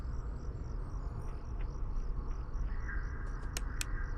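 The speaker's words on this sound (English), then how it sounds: "Those crickets are louder than anything." Crickets chirping in the ambience of the Five Nights at Freddy's horror game, a steady faint pulsing chirp over a continuous low hum, with a few brief high clicks near the end.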